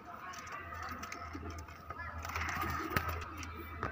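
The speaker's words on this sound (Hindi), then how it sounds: "ये फुलसरा कबूतर है सिंगल" A single Fulsara pigeon coos low and intermittently, with murmuring voices and other background noise around it.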